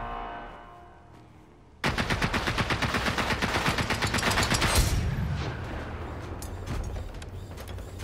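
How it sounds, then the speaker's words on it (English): In the video game Generation Zero, a sudden loud blast erupts after a quiet start, followed by a sustained, crackling roar with rapid pulsing bursts that slowly fades. "Oh shit, explosion is going."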